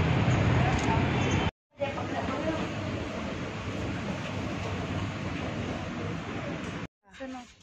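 A passenger train rumbling along, a steady broadband roar heard from close by, with two brief dropouts where the noise cuts out, and faint talk mixed in the background.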